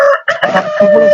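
A tiger chicken rooster on a poultry farm crows once, close and loud, in a short, bright, strained call.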